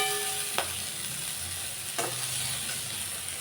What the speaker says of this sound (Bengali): তো এদিকে চলছে দেখো করলা ভাজা